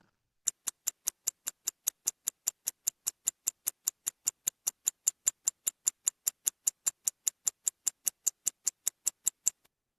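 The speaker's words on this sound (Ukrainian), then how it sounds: "Так, вірно, це був звук годинника." Steady, evenly spaced clock ticks, about four per second, crisp and close, continuing alone for several seconds.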